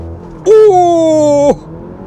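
A 2020 Porsche Macan on a launch control start: a loud, steady engine howl held at high revs for about a second, then cut off sharply, with no voices over it.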